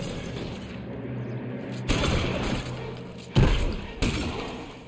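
Gunfire in the L.A. Noire video game, a few heavy thudding shots spaced about a second apart, loud and close against a background of game ambience.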